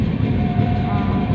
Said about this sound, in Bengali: শুধু ট্রেনের আওয়াজ শুনতে পাবে, আমার কথার সাউন্ড একটু কম শুনতে পাবে